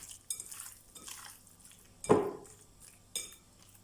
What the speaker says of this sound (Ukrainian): Гарно ось так вимішуємо рукою і залишаємо на 15-20 хвилин.